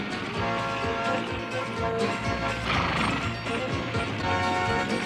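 A cartoon horse from a Wild West animated series whinnies loudly while hooves clip-clop in a steady trotting rhythm, close up and without any talk over it.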